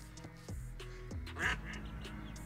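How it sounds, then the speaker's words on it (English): Ducks and their ducklings quack beside a garden where a timber fence is being put up, giving a few short, moderately close calls over a low outdoor background hum. "I noticed all these ducklings just at the bottom of where I'm installing the fence"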